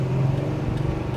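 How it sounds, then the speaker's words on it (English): A 1957 Chevrolet Bel Air engine hums steadily as the car upshifts, a low, even drone heard from inside the car with no voices. "And of course I'm upshifting now."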